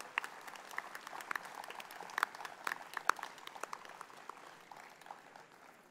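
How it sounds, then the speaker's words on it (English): Faint, scattered clapping from a crowd at a school annual day function for the children, a thin patter with a few sharper individual claps standing out, heard from a distance in a large hall. "Let's give a big round of applause to all our children."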